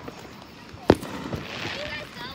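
A Fourth of July firework bursts with a single sharp bang at a distance, followed by faint crackling, with people talking over it.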